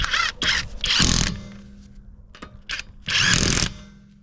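JTC impact socket turning a fastener, with several close, loud bursts of ratcheting mechanical whirring separated by short quiet gaps.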